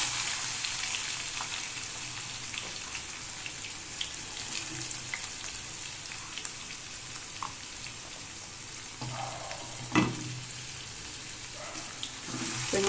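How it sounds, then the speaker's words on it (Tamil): Onions sizzling as they sauté in oil with fennel seeds for pepper chicken, a steady close crackle with occasional stirring scrapes and one louder knock. "வெங்காயம் சேர்த்து நல்லா வதக்கிட்டுக்கலாம்"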